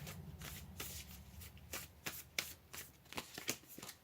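Tarot cards riffle and slap in a quick shuffle of rapid papery flicks and sharper snaps, close and fairly quiet, heard alone with no voices.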